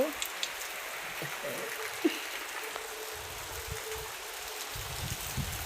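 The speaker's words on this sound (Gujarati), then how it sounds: "हमारे ત્યાં વરસાદ ચાલુ થઈ ગયો છે" Steady patter of rain falling, a soft continuous wash with a few sharper knocks and low rumbles in the background.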